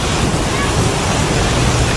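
Steady roaring storm wind fills the whole clip, dense and unbroken, battering the microphone.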